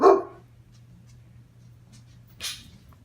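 A single loud, close dog bark opens the moment, followed by quiet hum and a brief second yelp or whimper near the end.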